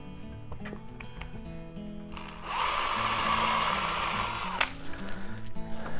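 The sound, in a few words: power drill drilling a hole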